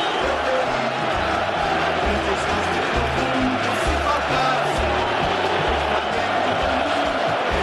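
Flamengo supporters fill the Estádio Monumental after the 2019 Libertadores final win over River Plate, a dense, steady roar of cheering and chanting with rhythmic low thumps running underneath.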